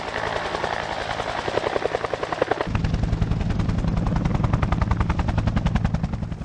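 A military helicopter flying under autonomous control, its rotor thumping in a rapid steady chop that grows louder and deeper partway through as the aircraft draws nearer.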